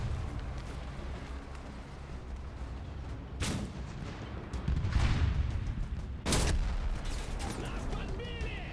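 KV-1E tank in a video game firing its main gun, two sharp booming blasts a few seconds apart over a low rumbling engine drone and background battle noise.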